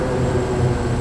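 Thrust reversers roar on a Kodiak 100 aircraft during landing in Microsoft Flight Simulator, heard as a dense, steady, loud rush lasting about a second with no pauses.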